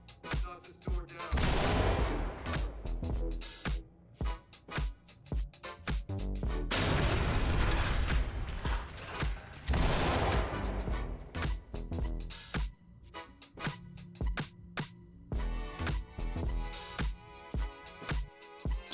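Repeated bursts of gunfire and heavy booms from a SWAT door breach and flashbang in the tactical shooter Ready or Not, loud and dense, with short pauses between volleys.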